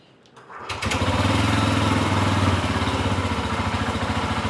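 A Bajaj Pulsar N125 motorcycle engine starts after a brief quiet moment, then runs loud and close at a steady, pulsing idle with a throbbing low rumble.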